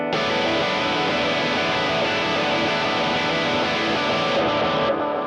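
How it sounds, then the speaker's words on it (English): A worship-style electric guitar rings out with unmuted strings, its notes blurring into a dense, sustained wash of overlapping tones that fades sharply near the end. "if I didn't mute the strings, it'll sound like this"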